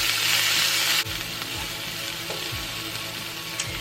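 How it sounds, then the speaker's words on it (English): Onion sizzling in hot olive oil in a pan, a bright crackling hiss that briefly drops after the first second, then continues with faint stirring scrapes, close and without talk. "we're going to add the rest of my olive oil, and then we're going to go ahead and put in the onion until it's nice and soft"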